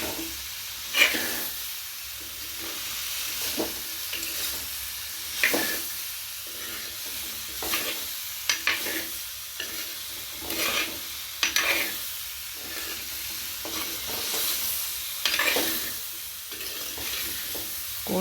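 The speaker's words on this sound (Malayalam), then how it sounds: "ഇനി നമുക്ക് ഇളക്കി കൊടുക്കാം" Mango pickle masala being stirred in a pan, a sizzling frying hiss broken by repeated scraping strokes of the spoon at an uneven rhythm, close and clear.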